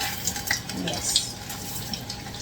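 Water fills a pot until it nearly overflows, a steady close rushing and splashing with a voice speaking briefly over it.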